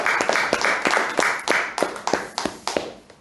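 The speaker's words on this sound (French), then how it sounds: "Applaudissons pour le Seigneur." A small church audience claps for the Lord, with sharp individual claps standing out in an uneven, sparse rhythm, loud and close against a background of scattered hand claps.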